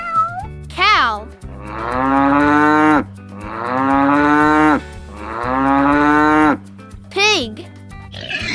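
A cow gives three long, loud, sustained moos in steady succession, each lasting over a second, over light background music, with short sliding voice sounds at the start and end.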